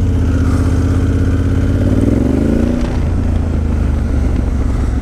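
A Honda Africa Twin motorcycle ridden offroad near Cape Hillsborough, its engine droning loud and steady close to the microphone, with the pitch swelling briefly as it revs partway through.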